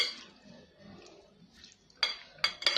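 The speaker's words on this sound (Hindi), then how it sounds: "दही इसमें डाला और इसको मिक्स करेंगे इस तरह से" A spoon stirs yogurt into chana chaat in a bowl, with faint soft mixing followed by three sharp metallic clinks against the bowl near the end.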